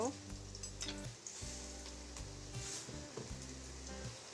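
Onions and green chillies fry lightly in oil with a soft, quiet sizzle, accompanied by a low steady tonal hum that stops and starts.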